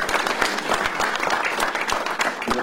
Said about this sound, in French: on peut l'applaudir une fois de plus.